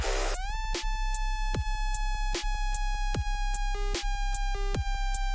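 A Serum synthesizer patch from a drop remake plays a buzzy sustained tone with a steady bass pulse, punctuated by repeated laser-like downward zaps and shifting pitch steps.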